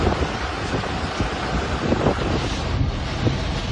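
Strong wind buffets the microphone with a steady roar while waves surge and crash on the shore at Dimasalang, a dense continuous wash of noise throughout.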